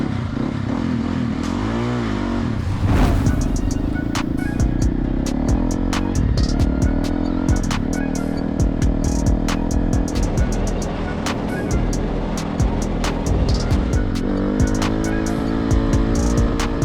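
Jeep driving on a ride to a friend's place, engine droning and revving with clattering rattles and bumps throughout, close and fairly loud.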